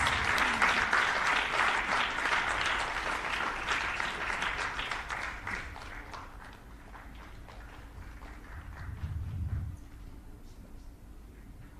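Loud applause from the audience at a Tamil Nadu school education event honoring the state Minister of School Education, dense and steady for about six seconds, then thinning into scattered claps and room noise.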